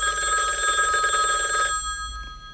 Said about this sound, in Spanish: Ayer le sonó el teléfono celular.